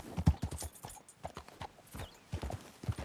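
Horse hooves clip-clop in Red Dead Redemption 2, a quick uneven run of fairly soft, close hoofbeats on the ground.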